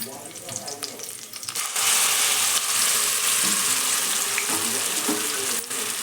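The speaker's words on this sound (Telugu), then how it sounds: "ఇప్పుడు స్టవ్ ఆఫ్ చేసేసి మనం దంచి పెట్టుకున్న పచ్చడిని అయితే దీంట్లో కలుపుకోవాలి." Pounded bottle gourd chutney stirred into freshly fried curry leaves and coriander in a hot pan after the stove is switched off. A loud, steady hiss and sizzle runs throughout, with scraping stir noises and no talk.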